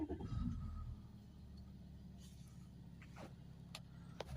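An Audi A4 2.7 TDI diesel engine cranks and catches, a brief loud burst settling into a steady low rumble, with faint clicks and whirs on top.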